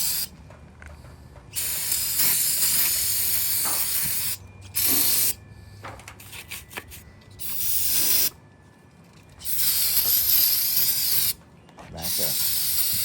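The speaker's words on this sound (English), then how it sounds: "Carburetor cleaner. Brake fluid cleaner." Aerosol carburetor or brake cleaner sprayed onto a 383 engine block, several loud sustained hissing bursts of a few seconds each separated by quieter gaps with faint clinks, close by.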